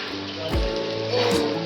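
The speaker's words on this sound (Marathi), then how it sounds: "आता खूप जोरात पाऊस पडत आहे" Steady heavy monsoon rain hisses across the whole clip, with a couple of brief louder thumps or voices breaking through.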